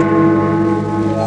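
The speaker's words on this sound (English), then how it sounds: "Then the bell struck 1." A clock bell striking one o'clock: a single loud, sustained toll ringing with rich overtones for the whole span, with no talk.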